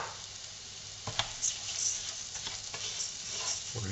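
Rice for an asparagus risotto toasts in a pan after softening aromatics, giving a soft, steady sizzle broken by gentle scraping stir strokes, close and fairly quiet, with no talking.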